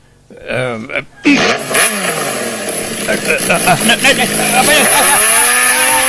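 A motorcycle engine sputters, catches and then revs repeatedly, rising and falling in pitch with a harsh, buzzy tone, loud and close, settling into a sustained high-pitched rev.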